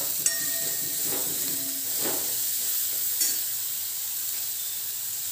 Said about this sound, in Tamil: இப்போ வெங்காயம் பச்சை வாசனை போக நல்லா வதங்கிடுச்சு.